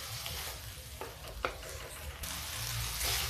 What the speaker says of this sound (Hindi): अब इसको ऐसे धीमे धीमे करके गैस तेज करके आप भून लीजिए